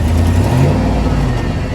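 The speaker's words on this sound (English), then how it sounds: "it literally pops out of gear as it increases RPMs" A vehicle engine with a failing transmission revs loud and close, a steady rough drone holding its pitch with slight wavering as the gear slips out.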